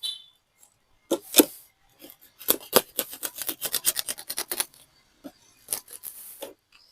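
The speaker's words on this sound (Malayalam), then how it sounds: "നമുക്ക് ഈ പാത്രത്തിൻ്റെ രീതിയിൽ ഒന്ന് കട്ട് ചെയ്തെടുക്കാം." Scissors cut into a sack filled with soil and fertilizer to shape a grow bed, giving a quiet, close series of crisp snips and rustling cuts in short bunches.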